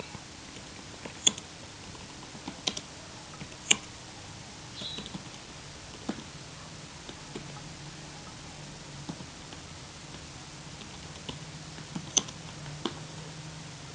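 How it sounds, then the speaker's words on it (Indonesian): Quiet, sparse keystrokes on a computer keyboard, with a few scattered clicks and taps over a low room hum as a name is typed. "Katakanlah kita ketikkan nama Amri."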